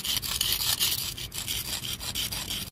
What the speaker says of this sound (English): After hours of filing on concrete